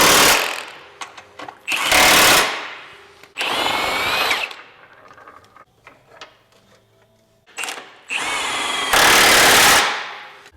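Bolts are run tight on a 1997-2001 Honda CR-V during a 4-inch HRG Offroad lift kit install with an impact-style power tool, in several loud, harsh buzzing bursts of one to two seconds each, separated by quiet gaps and small clinks.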